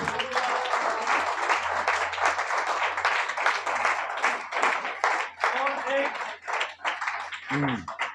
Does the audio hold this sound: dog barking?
no